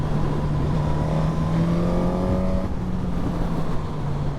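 Honda Hornet SP and Suzuki GSX-S1000 litre naked motorcycles on open roads, a loud, close engine drone with a rising note as one bike pulls away, steady throughout with heavy wind rush.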